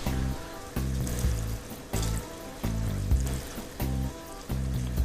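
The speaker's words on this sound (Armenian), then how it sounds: "վրան ինչ ենք լցնում, սառը ջուր" Cold water splashes over boiled spinach in a kitchen, a loud rushing pour that comes in repeated bursts with short breaks, and no one talks over it.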